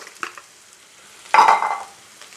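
Cabbage and carrot hit a pan of ginger and garlic over a high gas flame for a vegetable dry manchurian, bursting into a loud, close sizzle that fades over about a second after light clatter.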